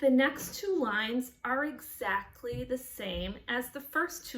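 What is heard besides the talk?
No everyday noises stand out.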